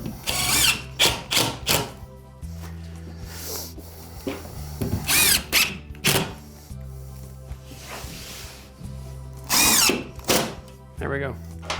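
A drill drives screws into drywall panels, several short whirring bursts separated by pauses, up close, with a person talking in between.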